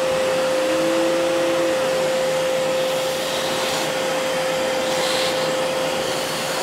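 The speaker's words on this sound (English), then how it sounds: "And I'll put the grinder on." A steady motorized whine drones on without pause, a coffee grinder spinning empty with a constant high hum over a broad rushing noise.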